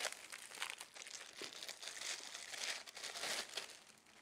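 Thin plastic bag crinkling and rustling continuously as it is pulled off a new water filter cartridge, close and fairly quiet, with no talking.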